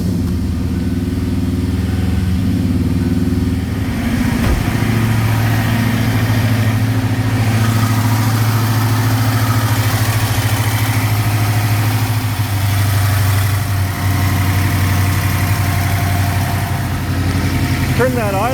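A 1995 S351 V8 idles steadily after a Moates chip reinstall with timing set to 10 degrees, a loud continuous low rumble holding just under 1,000 RPM, with voices talking over it.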